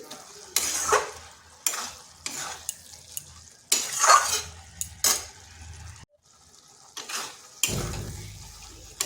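Vegetarian cabbage curry stirred in a pan as the water cooks off, with repeated scraping strokes and clinks of a spatula over a soft sizzle, coming in irregular bursts with short pauses.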